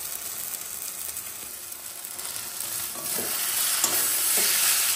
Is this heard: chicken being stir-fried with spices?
yes